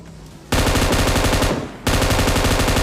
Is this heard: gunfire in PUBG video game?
yes